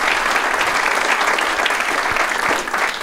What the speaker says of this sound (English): keep that clapping for the people at Eggs Up who've taken great care of us